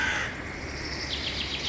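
A crow caws as it flies up into a tree, giving a few quick harsh calls at moderate distance over a faint background hum.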